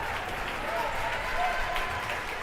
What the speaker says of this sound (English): clapping as their team comes back up the court